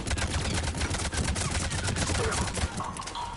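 Turret gunfire in the Mass Effect 3 video game, a dense unbroken stream of rapid shots rattling loud and close for the whole stretch.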